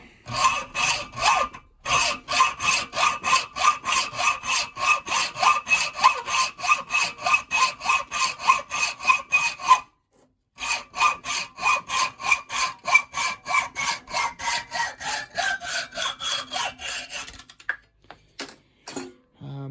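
Hand saw cutting through the shackle of a cheap, unhardened padlock, a fast rhythmic rasp of steady back-and-forth strokes, loud and close, with a short pause midway before sawing resumes and then stops.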